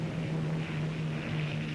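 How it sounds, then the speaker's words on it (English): Propeller airplane engine drones steadily with a low, even hum, close and continuous, no speech. "That's my plane."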